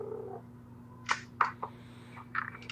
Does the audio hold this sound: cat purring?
yes